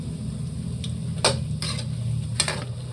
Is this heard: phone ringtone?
no